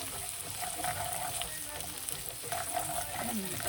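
Two chopped onions sizzle steadily in a hot pan for chicken pasta, a continuous close frying hiss with occasional soft stirring scrapes and no talk.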